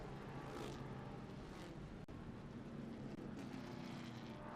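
Vintage race cars roar together at the green flag at Mid-Ohio, a dense, sustained engine drone that swells in waves, heard steadily from a distance.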